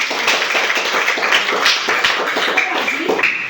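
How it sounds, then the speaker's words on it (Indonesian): A classroom of students clapping together, a fairly loud, uneven patter of hands with some voices in the background. "Ya, tepuk tangan untuk"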